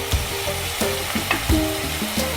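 Green chillies fry in oil and masala for a suran vegetable dish. A loud, steady sizzle runs throughout, with a few stirring scrapes in the pan.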